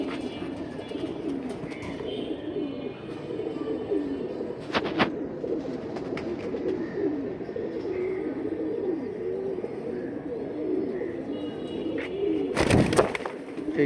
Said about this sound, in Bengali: একেবারে টিউবলাইট চোখের এক পেয়ার খয়রা গলা কবুতর।